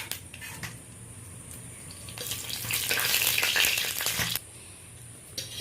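Whole spices, namely bay leaves, cinnamon sticks, small cardamom and cloves, temper in melted ghee in a kadai for hilsa korma. A close, steady sizzle swells into a louder crackling burst in the middle, with a few light utensil clinks.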